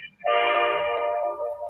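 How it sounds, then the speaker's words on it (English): A train sounds a loud, sustained horn blast close by as it passes, holding steady for over a second before fading slightly. "I hear a train coming."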